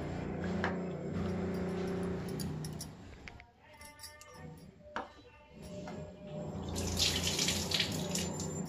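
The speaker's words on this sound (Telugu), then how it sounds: "వాటర్ వేసి క్లీన్ చేసుకోవాలి, నానబెట్టుకోవాలి ఫ్రెండ్స్" Running water splashes into a vessel as food is rinsed and left to soak in a home kitchen. The flow is fairly close and continuous, with a brief quieter pause and then a heavier gush near the end.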